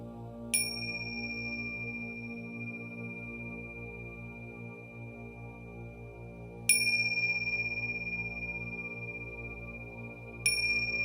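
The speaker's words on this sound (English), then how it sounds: "And listen to the sound of the bell." A meditation bell is struck three times at slow, spaced intervals, each strike a clear bright ding with a long ringing tone that fades gradually over a steady low background hum.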